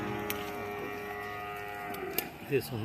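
Buffaloes low and moo at a busy Sunday buffalo market in Erragadda, a drawn-out animal call heard over a steady crowd murmur, with a short sharper bellow near the end.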